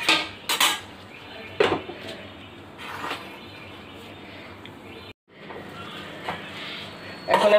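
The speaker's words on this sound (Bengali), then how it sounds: "এখন এটাকে আমি আবার ঢেকে দিচ্ছি।" A lid clanks down onto a cooking pot of mango pieces boiling in a little water, with several sharp metallic knocks and clatters among quieter kitchen handling noise.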